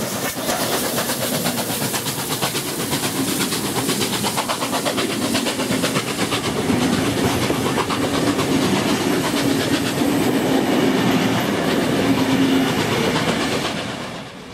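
New South Wales Rail Transport Museum steam locomotive 3642 rolls into Carlton Station, a steady, loud rumble of wheels and wagons with rhythmic clatter sustained throughout before fading slightly at the end.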